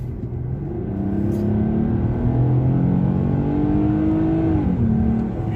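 A Kia K8 sedan engine in sport mode hums and climbs steadily in pitch as it accelerates, heard from inside the cabin as a smooth, continuous rising drone.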